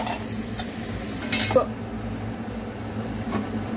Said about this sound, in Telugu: ఉల్లిపాయలు త్వరగా ఫ్రై అవ్వడానికి కొంచెం సాల్ట్ వేసుకుంటే త్వరగా ఉల్లిపాయలు వేగిపోతాయి